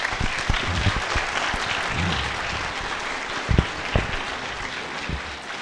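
Audience applause at an evening summit hall: a steady wash of clapping from a packed crowd, loud and sustained, with a few sharper claps standing out near the end.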